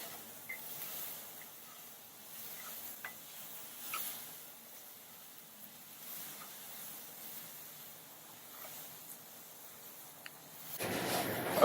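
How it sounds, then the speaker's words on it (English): Garlic stirred into toasted rice in a pan for Mexican rice, giving a faint, steady sizzle with light scraping ticks, rising into louder hissing at the very end. "And the garlic. Stir that in there."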